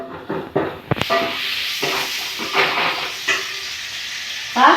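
Food sautéing in a pan while kuzhambu, a South Indian curry, is cooked: a close, steady sizzle and crackle with scraping stir strokes throughout.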